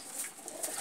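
A pigeon at a coop coos softly in a brief, faint, low call.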